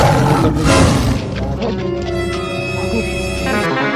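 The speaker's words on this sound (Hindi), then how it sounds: "शेर की दहाड़ तो पहचानते हो ना" A lion roars loudly and close at the start, then fades into a sustained rumbling growl, with talk and background sound mixed in throughout a comedy scene.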